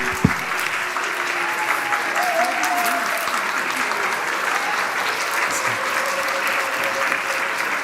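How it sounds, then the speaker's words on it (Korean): A congregation claps during a Sunday morning church service as flowers are presented, sustained crowded applause throughout with a faint voice or tone drifting over it. "큰 박수 부탁드리겠습니다"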